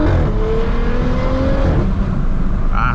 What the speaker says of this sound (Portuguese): fiquei muito contente com o barulho aqui da Panamera